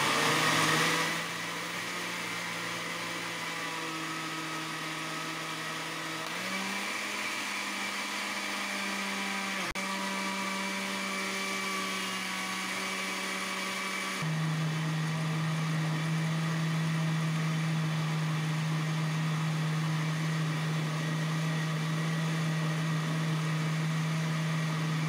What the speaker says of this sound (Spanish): Tapamos y licuamos.